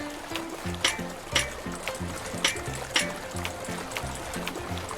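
Water rushing and sloshing through a flooded barn area in the drainage simulation game DrainSim: a steady wash with periodic splashy bursts, over a low, looping rhythmic backing.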